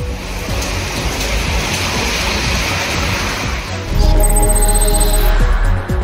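Moderate rain driven by strong wind hisses steadily in a broad wash of noise, growing louder and more roaring in the last couple of seconds, with no voices.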